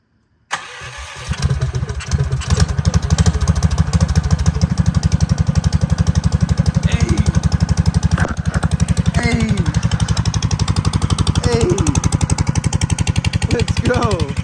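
A Big Block Baja Warrior mini bike engine with choke on and a weakening battery cranks, catches and settles into a loud, steady, close chugging idle with a few revs, while people talk over it.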